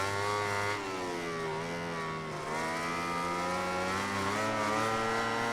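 A MotoGP 19 racing motorcycle engine held at a loud, steady high-pitched whine that climbs as it accelerates, with harmonic pitch bends as the revs rise and dip, close and continuous with no voices.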